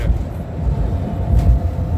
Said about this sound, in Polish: Tak, szczeciński tramwaj